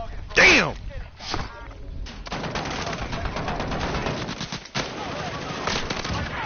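Call of Duty Warzone video game gunfire, rapid automatic bursts and sharp shots rattling in clusters amid chaotic game noise, fairly loud and close, with a whooshing sweep near the start.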